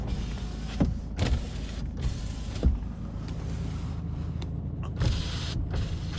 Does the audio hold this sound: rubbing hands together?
no